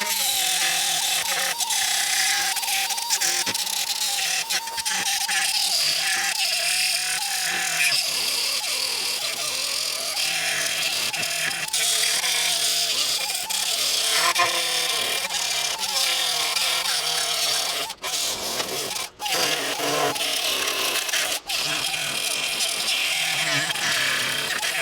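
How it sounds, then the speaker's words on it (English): A power grinder whines steadily while cleaning up welds on a truck tailgate crossmember, its pitch wavering as pressure on the metal changes, close and loud with only brief pauses near the end. "let's get to grinding and clean this up"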